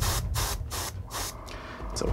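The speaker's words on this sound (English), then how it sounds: "I'm just spraying a very thin coat, just the brightest green" Spray can hissing out a thin coat of bright green paint in short bursts, four or five close, loud sprays separated by brief pauses.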